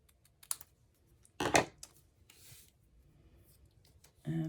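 A papercraft piece is trimmed with scissors in a quiet craft space: soft snips and a louder burst of cutting, then rustling paper handling close to the mic.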